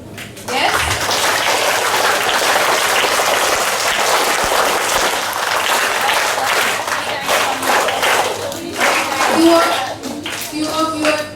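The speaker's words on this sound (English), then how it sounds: "So I think they need a big applause." Students at a school assembly break into loud, sustained applause, a dense wash of many hands clapping close by for several seconds before it thins into scattered claps and voices.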